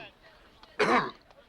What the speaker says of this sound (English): courtesy not to cough into the microphone